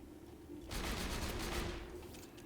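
Rapid burst of hip-fired gunfire from the Butcher gun in Borderlands 2, a dense fusillade lasting about a second and a half before cutting off, loud against a quiet game backdrop.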